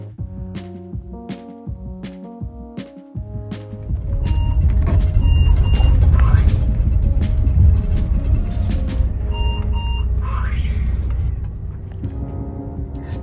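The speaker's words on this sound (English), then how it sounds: "the warning sound for applying the park brake sounds all the time while the bus is driving" A steady, repeated electronic park brake warning beep runs over the loud rumble of a bus engine, which grows heavier as the vehicle gets under way.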